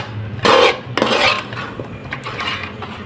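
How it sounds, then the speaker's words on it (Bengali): Cream for a Nawabi semai dessert is stirred in a bowl, giving a few scraping, clinking strokes of a utensil against the dish in short bursts, with quieter stirring after. "এই ক্রিমটা ভালোভাবে আবার নেড়ে চেড়ে নিব, যেন কোনো রকম দানা না থাকে।"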